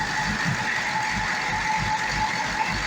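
A Chevrolet Corvette C6 engine idles steadily in reverse, a loud, continuous low rumble with a faint pulsing beat and a thin whine above it, with no speech.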